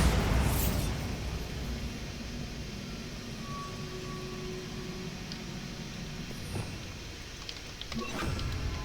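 A Bombarda blasting spell goes off in Hogwarts Legacy, a brief bright burst early on followed by a long rumbling tail and scattered debris pops, with a second sharp crack near the end.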